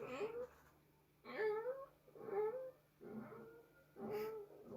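A cat yowls in several drawn-out, wavering cries with short gaps between them, heard against a low steady background hum.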